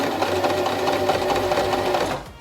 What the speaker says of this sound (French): on va le tester avant sur notre petit bout de tissu